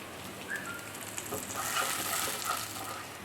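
Dried red chillies and curry leaves dropped into hot oil with onion and urad dal for kappa upma, a dense crackling sizzle with stirring, close and continuous.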